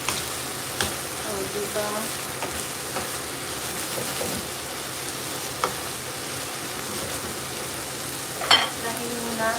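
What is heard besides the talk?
stirring food frying in a pan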